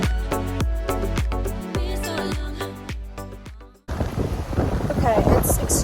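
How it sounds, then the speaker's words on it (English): Strong outdoor wind buffets a microphone on AirPods, rumbling loudly in rough, uneven gusts during the final two seconds. Music plays first and then cuts off abruptly. "it's extremely windy out, but hopefully my AirPods help cut through the noise"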